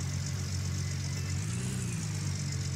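A vehicle engine running steadily in the mining game Gold Rush: The Game, a constant low droning hum with a faint whine above, idling without strong revving, no talking.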